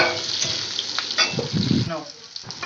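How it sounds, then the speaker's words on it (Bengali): Chopped onions fry in a pan for a prawn do-piyaza, a steady sizzle with some stirring and scraping underneath, close and moderately loud with no voices. "এবারে আমি পেঁয়াজটাকেও ভেজে নিচ্ছি ঠিক এইভাবেই দেখবে একটু লালচে ভাব চলে আসবে ভাজতে ভাজতে"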